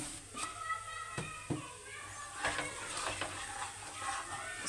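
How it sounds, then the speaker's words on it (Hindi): Spices and coriander powder roast in a pan with salt, a soft, steady sizzle punctuated by several sharp spoon clinks and scrapes as the mixture is stirred, with faint voices in the background. "दो तीन मिनट ऐसे भूनते हैं।"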